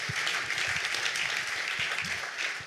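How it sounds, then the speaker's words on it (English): Fairly quiet applause fills a sports broadcasting summit room, a steady wash of clapping with faint low voices or thumps beneath it. "big round of applause for everybody in the room"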